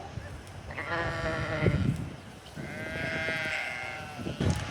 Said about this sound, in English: we ran into sheep